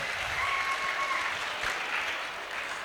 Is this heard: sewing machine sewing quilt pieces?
no